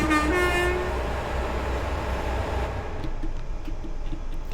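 A GWR Class 802 IET train from Great Western Express rumbles low and steady in a simulated approach to Paddington, a horn sounding briefly at the start before the continuous rolling drone carries on alone.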